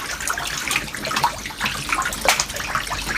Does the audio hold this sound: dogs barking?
no